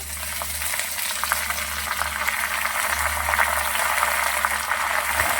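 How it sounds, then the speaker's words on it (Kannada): Radish greens fry in hot oil in a pan, a steady loud sizzle with faint stirring clicks, continuous throughout with no talk over it. "ಮೂಲಂಗಿ ಸೊಪ್ಪು ಹಾಕ್ತಾಯಿದ್ದೀನಿ"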